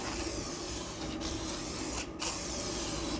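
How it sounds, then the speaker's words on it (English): Aerosol spray can hissing in steady, loud continuous bursts onto the edge of a cardboard box for a homemade softbox, with two brief pauses between sprays. "I'm just going to spray some of this stuff on it"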